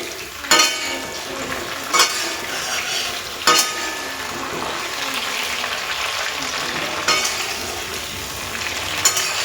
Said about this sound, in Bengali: ফুলকপিটা ভেজে নিচ্ছি।